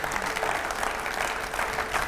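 An audience in a studio show applauds to welcome a guest, a steady, dense burst of clapping from a crowd, fairly close and sustained throughout.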